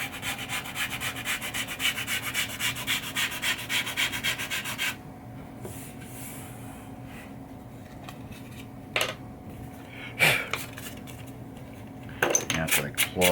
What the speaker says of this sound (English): Right now I'm just like sanding the side of it.